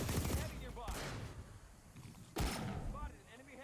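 Rocket blasts and bursts of gunfire from a light assault firefight in the online shooter PlanetSide 2, with two sharp explosive impacts cutting through steady battle noise and voices talking over the action.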